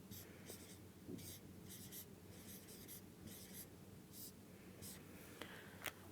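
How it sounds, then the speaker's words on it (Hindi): Pen strokes of handwriting during a lesson, rendered as a run of rhythmic, faint scratching bursts repeating steadily, close and quiet, with a couple of small taps near the end. "मैं ये लिख देती हूँ"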